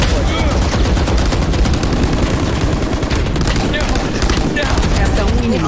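Rapid gunfire exchange in the video game Valorant, dense loud bursts of automatic shots and impacts running continuously over a constant game din, with no talking.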